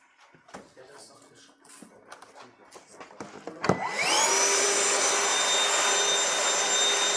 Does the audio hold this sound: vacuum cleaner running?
yes